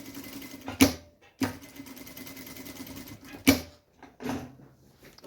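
A sewing machine stitches a small fabric bandana bib along a marked line, running in steady bursts with brief stops and restarts, close and fairly quiet, with no talking.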